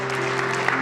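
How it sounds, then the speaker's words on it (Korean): Applause from the audience at a provincial education office's school sports awards ceremony, a brief, steady wash of many hands clapping over a constant background hum in a hall. "박수 부탁드리겠습니다."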